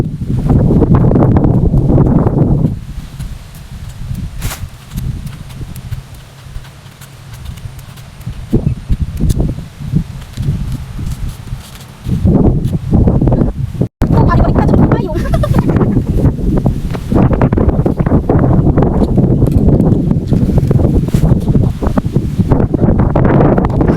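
Strong gusts of wind buffet the microphone in loud roaring bursts that rise and ease off, with voices talking through it.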